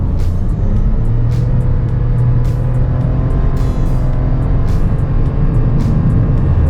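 A steady engine drone and road rumble hum loudly from inside a moving Perodua Ativa, with a few faint clicks and ticks over the top.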